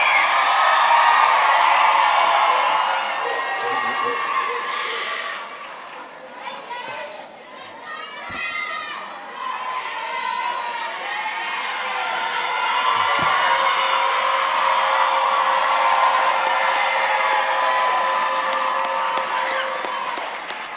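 A commencement ceremony audience screams and cheers steadily and loudly for about twenty seconds, a broad sustained crowd roar with whoops and some clapping, dipping briefly in the middle before swelling again.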